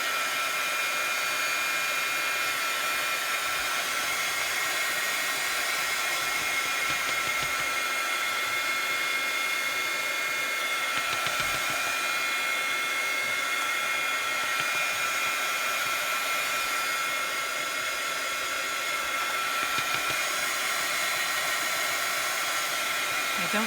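A hair dryer blows continuously to dry paint on an art journal page, a steady close whooshing hum that holds at an even level throughout.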